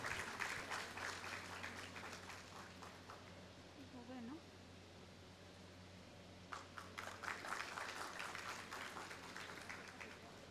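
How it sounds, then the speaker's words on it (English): Audience applause at a government medical college graduation convocation, a dense patter of clapping heard faintly at a distance, fading in the middle and returning toward the end over a low steady hum. "Please give him a big round of applause."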